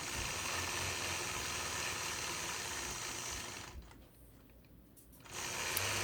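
A sewing machine stitching in the ditch around a quilt block, its steady whirring hum running loud and continuous, dropping out briefly for about a second and a half before resuming.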